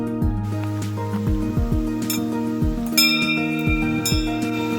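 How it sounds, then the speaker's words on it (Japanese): A metal bear bell on a mountain hiking trail rung over and over, its clanging tones clattering and wavering with a dull, rattly edge rather than a clean ring. "熊よけの鐘がありました。 念のため鳴らしていきますよ。"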